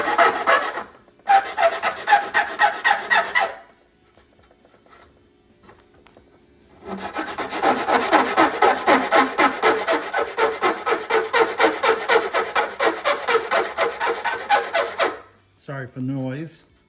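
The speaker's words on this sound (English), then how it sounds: "I'm going to use a big flat steel file and see if I can level this all out" A big flat steel file rasps across a clear plastic hinge on a vintage Technics turntable dust cover, two bursts of steady back-and-forth strokes, close and loud, separated by a quiet pause, with a brief rustle at the end.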